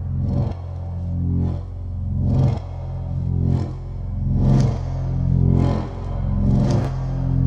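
A sampled double bass texture from an Emergence Audio library, its contact layer turned up, plays as slow swelling low bowed tones that rise and fade in repeating waves, heard alone.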